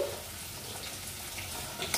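Paneer pieces fry in oil in a pan, giving a steady, close hiss and crackle of sizzling with light spatter pops toward the end and no voices.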